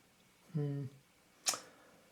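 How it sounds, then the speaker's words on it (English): Sticky shutter on a Hasselblad Planar 80mm f/2.8 lens being cocked: a short buzzing mechanical whir, then a single sharp click about a second later, close up and otherwise quiet. "when I cocked the shutter"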